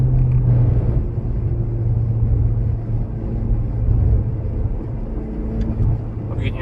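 Low, steady exhaust burble from a Mitsubishi Lancer Evo X, a continuous rumbling drone close by that holds at an even loudness with no voices over it.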